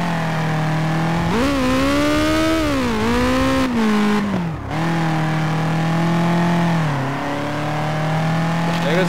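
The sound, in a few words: truck engine revving in Turbo Dismount video game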